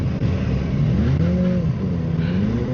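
A Kawasaki ZX10 sportbike on a demo ride holds a loud, close engine drone, its pitch rising and falling through gentle revs while easing into neutral, with steady wind rush and no talking.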